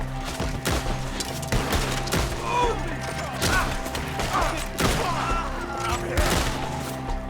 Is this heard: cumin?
no